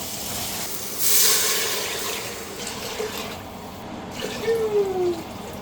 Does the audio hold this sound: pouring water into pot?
yes